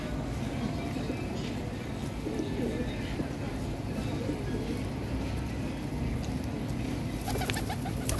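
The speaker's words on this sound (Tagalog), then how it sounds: "Pigeons." Pigeons coo softly while feeding on bread outdoors among people, the calls faint under a steady wash of background noise and passing ambient sound, with a few brief flutters near the end.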